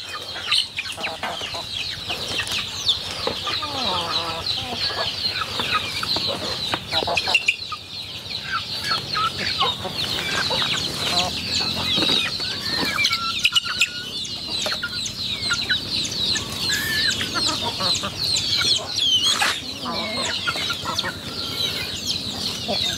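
Chickens cluck and squawk steadily while pecking at melon and honeydew rinds, several birds close by and overlapping, with a busy, continuous chatter of fowl and no talk.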